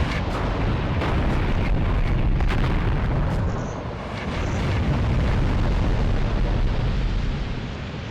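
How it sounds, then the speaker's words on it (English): Missile barrage striking in Graviteam Tactics, a continuous rolling rumble of heavy explosions with sharp bursts layered on top, loud and dense, easing briefly midway before surging again. "So this was the missile barrage that was just coming in on the other side to where the infantry are located."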